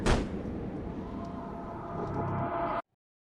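A single loud gunshot blast in the horror video game Insomnia: Chapter One opens, followed by a booming rumble that sustains for a few seconds before cutting off abruptly to silence.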